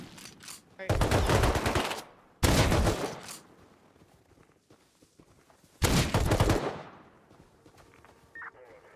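Shotgun blasts in the survival game Rust, three loud broadband bursts, each lasting about a second, with quieter gaps between them and a faint ringing tone near the end.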